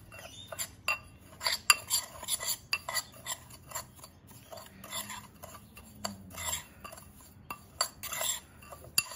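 Spices for lamb yiros being mixed in a bowl with a spoon, soft irregular clinks and scrapes of metal against the dish, faint and close, with a low hum underneath.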